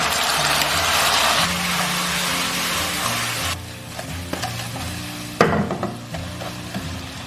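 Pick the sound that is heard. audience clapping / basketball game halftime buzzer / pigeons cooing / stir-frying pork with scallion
stir-frying pork with scallion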